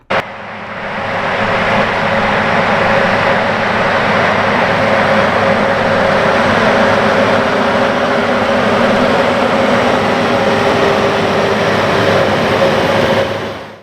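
A Versatile 365 tractor pulls a Fury high-speed disk across an Illinois field at about nine miles an hour, working three inches deep amid snow flurries; its loud, steady engine roar runs unbroken with no talking.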